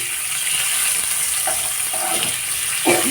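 Cinnamon, cardamom, panch phoron and tomato fry in hot oil with a steady close sizzle, a few faint clinks of stirring near the end.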